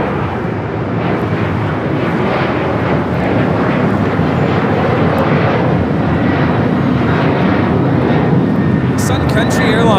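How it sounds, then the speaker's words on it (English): Sun Country Airlines Boeing 737-800 jet taking off at LAX, a loud, sustained broadband engine roar that holds steady and builds slightly over the whole stretch, with people talking over it. "Sun Country Airlines 426 taking off to Minneapolis on the 737-800"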